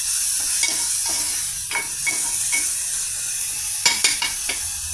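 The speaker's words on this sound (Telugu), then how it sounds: "పెద్దల్లిపాయ, పచ్చిమిర్చి ఆయిల్తో ఫ్రై అవుతున్నాయండి" Onion pieces, green chilli, ginger-garlic paste and tomato fry in oil for a curry, giving a steady sizzle with intermittent stirring scrapes and clacks of a utensil against the pan, close and clear with no talking.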